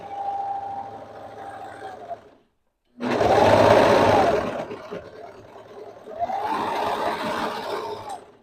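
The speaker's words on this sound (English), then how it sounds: "I haven't really mastered turning on a serger, so don't watch me for that." A serger sewing machine stitches fabric in three loud, close bursts of fast humming whir, broken by a short silent gap and a slower stretch while turning, with no talk.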